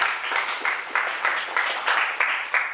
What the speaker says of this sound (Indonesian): Tepuk tangannya dulu mana?